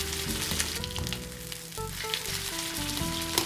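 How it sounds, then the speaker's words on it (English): Fat from an Iberico pork chop sizzles steadily in a hot pan, a continuous close crackling hiss that holds even throughout, accompanied by faint tonal clinks and hums. "We're just going to render that fat down on there."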